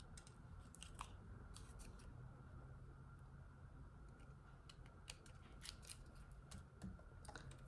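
Scissors snipping paper while trimming excess from a countryside-themed pop-up card, a series of quiet, sharp cuts in irregular bursts over a low steady background hum.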